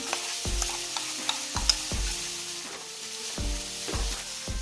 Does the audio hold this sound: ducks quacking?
no